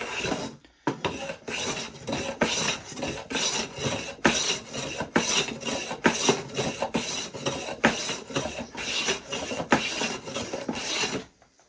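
Japanese hand plane shaving wood in rapid, rhythmic back-and-forth rasping strokes, about a dozen close scraping passes in steady succession with no voices over them.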